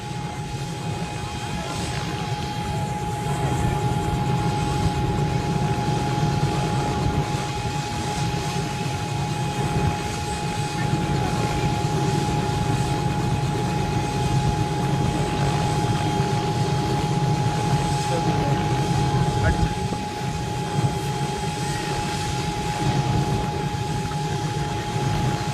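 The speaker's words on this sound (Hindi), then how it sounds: "अब आप देख सकते हैं कि दूल्हा और दुल्हन को हेलीकॉप्टर से नीचे उतारने की तैयारी" A helicopter carrying a wedding party to a landing in Barmer keeps up a continuous loud rotor and engine roar with a steady whine, heard from nearby throughout.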